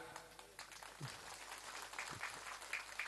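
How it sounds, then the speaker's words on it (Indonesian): Faint, distant applause from the audience at a humorous Islamic sermon, a soft continuous patter of many hands with a low background hum. "Tepuk tangan dong."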